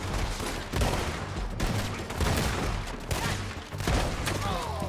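Rapid volleys of gunfire erupt in a Red Dead Redemption 2 shootout, loud bursts of shots repeating every second or so with dense overlapping cracks and a faint shouted voice.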